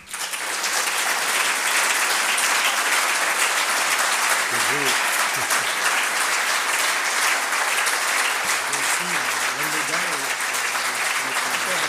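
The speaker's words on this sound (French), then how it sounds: "C'est ma compagne et productrice, Christine Pirot, que je vous demande d'applaudir." A ceremony audience at an award presentation of the Royal Academy of Belgium gives sustained applause for about twelve seconds, a dense, loud, even roar of clapping with occasional voices faintly audible beneath it.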